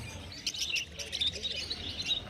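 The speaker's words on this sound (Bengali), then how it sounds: "এখানে দেখতে পাচ্ছেন একদম সুন্দর সুন্দর রেড আই বদ্যি পাখি আছে" Small caged birds, red-eye finches among them, chirp at the Garia bird market, a cluster of quick high tweets overlapping over low background murmur for a couple of seconds.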